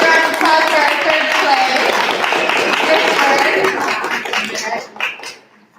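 An audience at a school spelling bee claps in a dense, steady round of applause that fades out toward the end, with a voice speaking over it.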